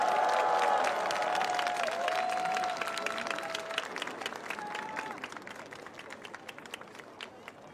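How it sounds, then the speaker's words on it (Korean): A large outdoor crowd at a prayer rally in Seoul applauds to welcome an elderly pastor, clapping fading gradually while a voice or tone rings out over it early on. "목사님 나오실 때까지 연로하신데 박수로 격려해 주시기를 부탁드리겠습니다"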